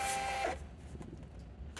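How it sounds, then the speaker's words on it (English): Rollo thermal label printer running a test page, a short burst of high whirring mechanical printing in the first half second, then a quieter room with faint handling noises. "when we go back to Rollo and we print a test page"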